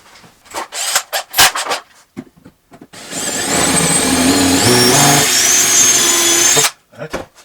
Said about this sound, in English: So then we go get a drill,